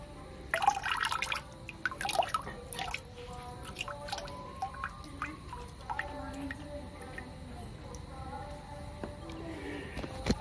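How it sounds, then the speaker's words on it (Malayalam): A yeast mixture is poured into a container of moina culture water, giving scattered drips, splashes and small liquid plops at close range, busier early on and then sparser, with no talking. "അപ്പോൾ അതേ ഈസ്റ്റും ഒഴിച്ചു കൊടുത്തിട്ടുണ്ട്."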